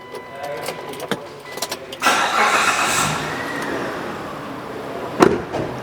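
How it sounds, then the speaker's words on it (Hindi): A 2007 Mitsubishi Pajero Limited engine starts, with a few clicks and knocks, then the crank and catch, before settling into a quiet, steady idle with a brief sharp knock near the end. "मैं इसको अगर स्टार्ट करता हूँ तो आपकी साउंड सुनिएगा, ना होने के बराबर है।"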